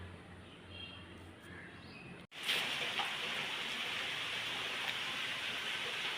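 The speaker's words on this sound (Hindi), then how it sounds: "हमारी तरफ बहुत तेज़ बारिश शुरू हो गई है।" Heavy rain suddenly starts pouring after a brief quiet, turning into a steady, dense hiss that holds at even strength, with faint bird calls underneath before it begins.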